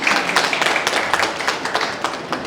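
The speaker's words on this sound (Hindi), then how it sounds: "ताली तो बजाओ." Audience clapping at a school event in Ludhiana, a steady crowd applause with dense, irregular hand claps sustained throughout, moderately loud and close.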